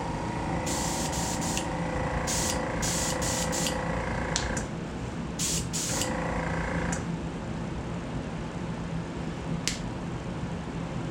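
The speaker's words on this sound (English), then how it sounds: "we're going to just spray up" Opaque white paint sprayed onto a handmade waggler fishing float, a run of bright hissing bursts of varied length over a constant loud mechanical hum, close to the source.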